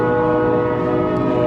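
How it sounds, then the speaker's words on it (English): A train sounds its whistle as it rolls through World's Fair Park, a loud sustained harmonic blast heard up close with no pause for the whole moment. "there you can see the train rolling through World's Fair Park"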